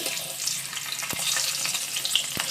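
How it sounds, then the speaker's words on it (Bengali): Potatoes frying in hot oil for a dry potato dum give off a dense, close crackling sizzle, broken by a couple of sharp scraping strokes of a spatula, with no voices. "আলুগুলো আমার ভাজা হয়ে গেল ভেজে তুলে নিচ্ছি"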